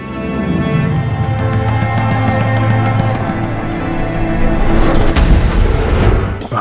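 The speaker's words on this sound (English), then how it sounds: "Russians are shooting at Russians." Heavy gunfire and booming blasts fill a historical war film trailer, a dense sustained barrage under dramatic music that swells into a loud burst near the end.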